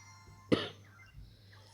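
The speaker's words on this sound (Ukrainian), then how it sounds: "Вибачте, що я кашляю." A single sharp cough, close and fairly loud, bursts out against a quiet room hum, followed by a faint low thump.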